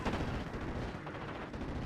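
Machine gun fire from a pair of MG34s in the WWII strategy game Steel Division: Normandy 44, a dense, sustained rattle of battle noise with no voices.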